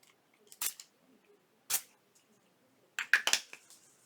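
Walnut stain sprayed onto fabric with a pump sprayer: three short hissing bursts, the last a quick double or triple puff, fairly close with quiet gaps between them.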